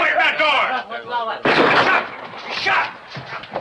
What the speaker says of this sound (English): The gunshot, I heard it.